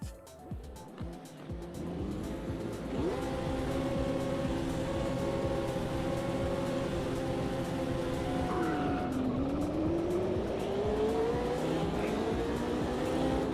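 Super Trophy Trucks in the AMS2 racing game at a race start: a pack of engines roars steadily, with one motor's pitch rising and falling through gear changes, loud and continuous.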